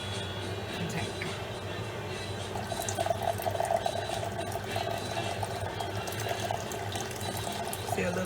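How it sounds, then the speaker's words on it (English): Tea steeped from loose leaves in a carafe is poured through a strainer into a glass container in a home kitchen, giving a steady, continuous trickle of liquid for several seconds over background noise. "I strain it as I pour it into this glass"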